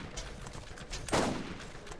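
Pistol fire in the video game Borderlands: a single sharp shot bursts out around the middle over a steady bed of game ambience, with faint fainter pops scattered around it.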